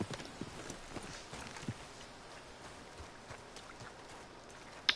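Horse hooves clip-clopping on a road in the video game Red Dead Redemption 2, a steady, faint patter of hoofbeats at a walking pace with a little background noise.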